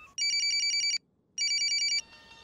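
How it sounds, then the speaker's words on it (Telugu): A phone rings in two electronic trilling bursts separated by a short silence, clear and fairly near, followed by faint background noise. "రింగ్ అవుతుంది"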